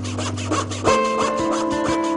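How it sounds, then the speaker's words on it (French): A foot-operated marquetry saw cutting wood rasps rapidly and rhythmically, with a steady hum shifting to a higher whine midway; close and loud, no voices. "On actionne la scie avec le pied, on manipule le paquet avec la main"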